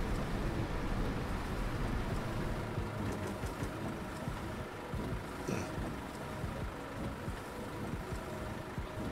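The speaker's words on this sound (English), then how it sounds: "I actually really like driving in the rain with the window open." Rain drums steadily on a city bus driven through Berlin streets in The Bus simulator game, with the window open and the engine rumbling low beneath a continuous wash of rainfall throughout.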